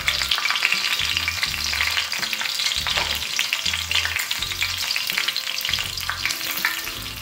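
Green chillies fry in a hot pan for mutton fry, giving a steady, close sizzle and crackle broken by a regular rhythm of soft thuds from stirring, with no talk.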